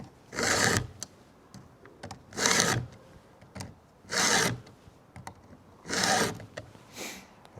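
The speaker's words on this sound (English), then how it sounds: "So we're just going to sharpen it." A dual file sharpener rasps across chainsaw teeth in five firm strokes, each about half a second to a second long with short pauses between, close and loud, with faint clicks between strokes and no talk.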